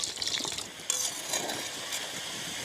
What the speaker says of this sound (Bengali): এই আলুটাকে আগে ভেজে নিচ্ছে